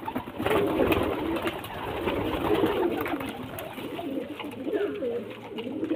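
Low, rolling coos from a group of male pigeons repeat continuously, close by, under faint background activity.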